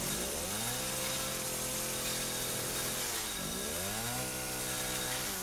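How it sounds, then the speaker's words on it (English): A chainsaw in Resident Evil 7 Biohazard roars continuously and loudly, with its engine pitch sweeping down and back up as it revs twice, close and dominant over background music. "And rip chainsaw."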